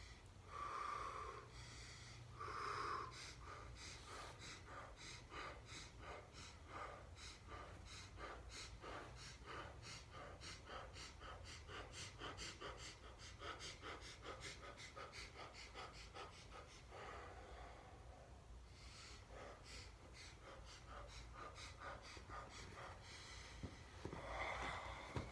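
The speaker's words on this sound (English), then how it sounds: "you can practice your burst breath, inhale, exhale, all the way down" Rhythmic Systema burst breathing, a long run of quick forceful inhales and exhales repeated steadily, close and fairly loud with no talk.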